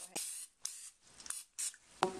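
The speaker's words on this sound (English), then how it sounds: "We have some Pam that we're going to spray in our nonstick baking dish." Pam cooking spray spritzed into a 9 by 13 inch nonstick baking dish in five short, close hissing bursts, with a light clunk of the can at the end.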